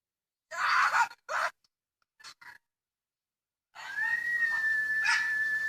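Several dogs: a few close barks followed by silence, then a sustained whining howl rising over a hissy background.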